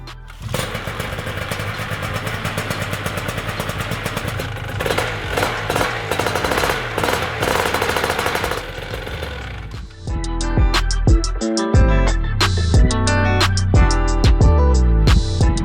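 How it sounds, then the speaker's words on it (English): A small engine with a carburetor runs loudly with a rapid, rough chugging, then shifts into a heavier uneven throbbing of revs and knocks near the end. "I primed the engine because now the bowl was empty and fired it up"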